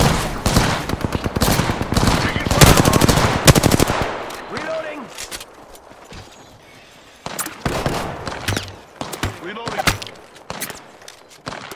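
Loud bursts of automatic gunfire from the video game Apex Legends come in rapid streams, then a quieter gap with scattered sounds, then more bursts, while a voice speaks now and then among them.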